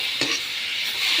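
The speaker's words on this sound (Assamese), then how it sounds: "দি পেলাই অকণমান লৰাই ভালকৈ ভাজি লওঁ" Food being stirred and fried in a pan while a cook prepares a kolmou (water spinach) leaf dish, a steady close sizzle with a scraping stir near the start, no voices.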